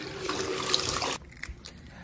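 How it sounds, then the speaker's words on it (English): Tap water runs steadily into a sink while hands are washed, a broadband rush that cuts off abruptly partway through, followed by faint trickles and small knocks. "Wash our hands."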